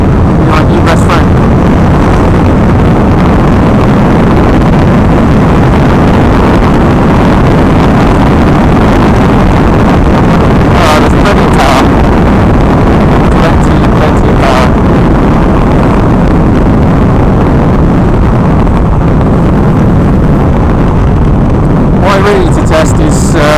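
A 2016 Honda NC750X motorcycle cruises in third gear, a steady low engine drone heavily buried under constant loud wind roar against the microphone, with a rider talking briefly over it.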